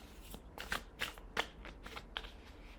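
A deck of tarot cards is shuffled by hand in a series of soft, crisp riffling bursts, close and fairly quiet, with no talk.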